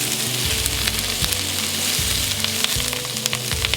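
Bacon grease sizzles and spits in a frying pan, a dense, steady crackle with sharp pops of splatter over a low, rhythmic thumping hum.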